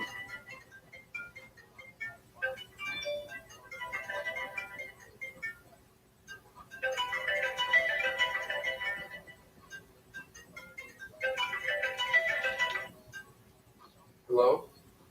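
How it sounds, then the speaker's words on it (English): A phone ringtone plays in two clear melodic bursts with a quiet gap between them, faint and in the background among scattered softer sounds, ending with a short pickup clunk. "Gotta check this phone."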